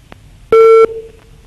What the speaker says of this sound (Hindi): लाइन ड्रॉप हो गई है।